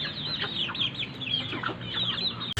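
Chickens cluck busily while being fed a snack, a dense stream of close, overlapping clucks and chirps with no talking.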